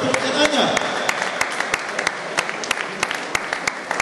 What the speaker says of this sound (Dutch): En geef ze uiteraard ook een hartelijk applaus voor Maat en Anja.